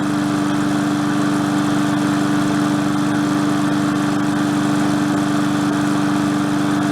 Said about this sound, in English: It's running pretty good though. Not bad for a free mower.